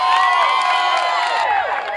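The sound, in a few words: crowd applauding and cheering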